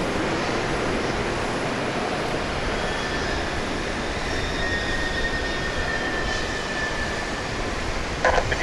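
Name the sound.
airplane landing at Dallas Love Field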